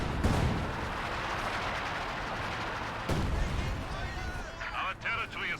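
Company of Heroes 2 battle with a dense, continuous roar of artillery and gunfire, with a sharp heavy impact landing midway and scattered crackling blasts toward the end.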